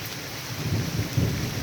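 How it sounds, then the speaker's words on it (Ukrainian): A thunderstorm with steady rain, low rumbling thunder rolling beneath a constant hiss of falling rain, heard outdoors with no voices. "Бачите, а он там вже гроза лиє"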